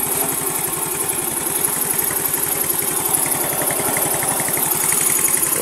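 A motorcycle engine runs at a steady idle after its regulator wiring was repaired and restored to standard. The close, even mechanical rumble holds throughout with no break and no voices.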